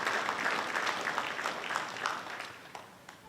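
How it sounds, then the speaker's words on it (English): Audience at a high school athletic hall of fame induction ceremony applauding the inductees, a soft, dense wash of clapping that slowly fades toward the end. "I'd like for us to give them a round of applause."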